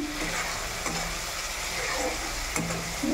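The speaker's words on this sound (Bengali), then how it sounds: "একটু নাড়িয়ে নেব। আমার মশলাটা কষা হয়ে এসছে।" Masala with turmeric and salt frying in oil in a pan, stirred by hand: a steady close sizzle with soft scraping strokes and a few sharper clinks, no talking.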